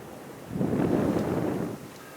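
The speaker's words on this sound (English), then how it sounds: "The snow looks like it's coming down horizontally and the wind's really picked up" A strong gust of blizzard wind rises, roars over the microphone for about a second, then eases off.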